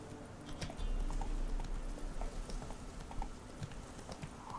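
Geralt's horse Roach galloping in The Witcher 3, a steady rapid clip-clop of hooves, close and continuous over a low rumble.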